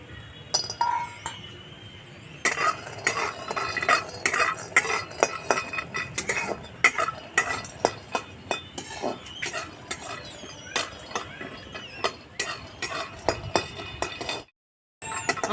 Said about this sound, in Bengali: শুকনো খোলায় বাদামগুলো ভেজে নেবো